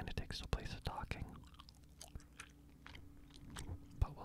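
Close, wet chewing of gum with soft mouth clicks and smacks, steady and intimate over several seconds, with faint whispering in the background.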